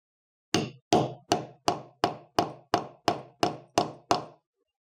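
Ten evenly spaced hard hammer strikes on a Line 24 snap setter resting flat on a granite block, each a sharp, close, loud metallic whack with a short decaying ring, at a steady rhythm of about one blow per second.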